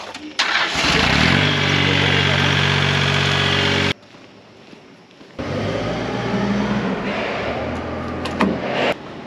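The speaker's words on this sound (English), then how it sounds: "Yeah, let us get that cotton picker out." The diesel engine of a cotton picker cranks, fires and runs loud and rough nearby as the machine gets moving. It cuts off abruptly, then a lower engine rumble carries on with some talk.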